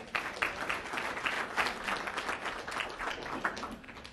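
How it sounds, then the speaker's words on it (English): Sustained applause from a university event audience, a dense, steady wash of many hands clapping at moderate distance for several seconds, with no talk over it. "So give yourselves a round of applause."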